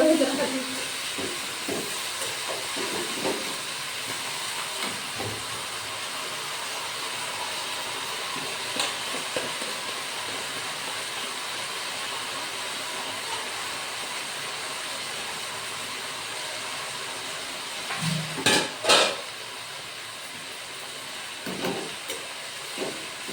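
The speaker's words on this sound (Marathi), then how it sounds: "भाजी फिरवून घेत आहे" Fenugreek leaf and pea curry is stirred in a hot pan, with a steady, soft sizzling hiss running throughout and a few scraping clatters of the utensil, mostly near the end.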